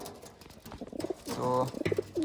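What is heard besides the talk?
pigeons cooing in loft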